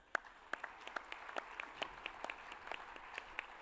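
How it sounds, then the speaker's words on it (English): Scattered applause from an awards-ceremony audience, sparse individual claps sounding fairly faint and distant, with no voices over them. "Big round of applause"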